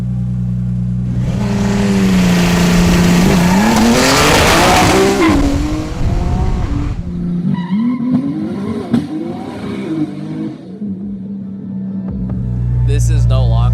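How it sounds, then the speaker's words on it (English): A fully built Nissan R35 GTR race car with a parachute, the quickest vehicle in Borneo, roars loudly through rising revs and tire squeal before backing off, then surges again at the end, with voices faintly underneath. "There they had the quickest vehicle on the entire island of Borneo, a fully built R35 GTR."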